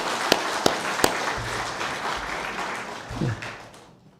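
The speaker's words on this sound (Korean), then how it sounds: "먼저 박수로 축하해 주시기 바랍니다." A church congregation applauds in a sustained, moderately distant wash of clapping, with a few sharper claps near the start before the applause fades out.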